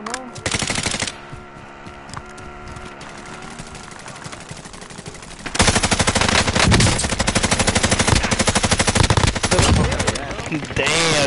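Rapid automatic gunfire rattles in Call of Duty Modern Warfare, starting with a short burst, then a quieter stretch, then long, loud, dense volleys of machine gun fire filling the second half.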